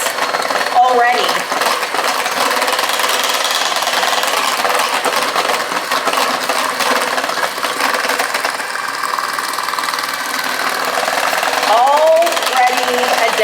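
Cheesecake batter is mixed in a bowl by a loud, continuous electric mixer whose motor drone runs steadily from start to finish, with a voice briefly heard near the end.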